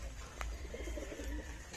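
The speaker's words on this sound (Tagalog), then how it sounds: "Yan, ito yung mga kalapati na dito." Close pigeons, all white, give soft, rolling coos over a low background rumble, with a couple of faint clicks, in a hillside botanical garden.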